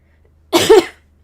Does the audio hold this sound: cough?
yes